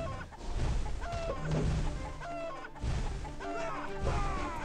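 Cartoon chickens clucking and squawking in the video game What The Hen!, several short bursts mixed with game hits and crash effects, fairly faint and with no talk.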